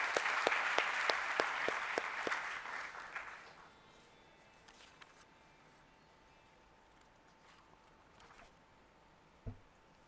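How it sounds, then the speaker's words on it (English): Audience applause at an annual forecast industry event, a dense burst of clapping for the first few seconds that quickly fades out, leaving a quiet room with a few faint sounds and a short knock near the end. "So can we have a warm round of applause for Mr. Nikunj?"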